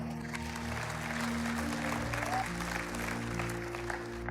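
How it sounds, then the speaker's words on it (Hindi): A church congregation applauds in a broad, even wash over a low steady hum from the hall's sound system, continuing without any speech on top. "आइए, एन्ना के लिए तालियां बजाएं।"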